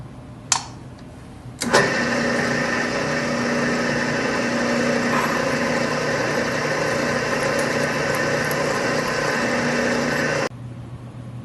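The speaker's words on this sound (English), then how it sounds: "Got the drill press slowed down a little bit, and we're ready to roll." A drill press running at slowed speed bores out a steel shaft: a steady motor whine runs for several seconds after a brief start-up, holding an even drone before cutting off abruptly near the end.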